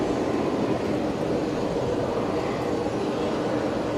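A fixed-wing airplane departing over Brisbane Airport in cloudy, stormy weather gives a steady, broad engine roar that holds at an even level throughout, with no voices.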